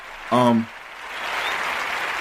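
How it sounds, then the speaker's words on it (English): Applause for a school principal starts right after a short voiced sound and swells into a steady, moderately loud clapping that continues to the end. "We want to give the Ujima principal a round of applause."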